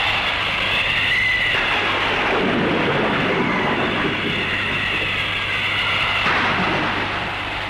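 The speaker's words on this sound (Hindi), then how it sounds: "लगता है बारिश आने वाली है" Thunder rolls before rain in the 1983 Hindi film Romance: a heavy, continuous rumbling roar that fills the whole stretch without a break, with no talking.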